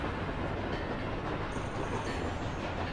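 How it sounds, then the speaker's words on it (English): A long train rolls past in The Escapists 2, a steady dense rumble with rattling wheels filling the whole moment without pause, loud and close. "That train is long, you know."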